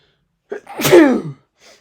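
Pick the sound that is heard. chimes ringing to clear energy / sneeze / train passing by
sneeze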